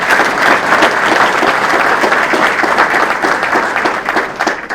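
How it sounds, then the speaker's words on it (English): Loud, steady applause from a dinner audience fills the room from start to finish, a dense wash of many hands clapping together that thins only slightly at the very end. "And I think all of the new workers need to be applauded."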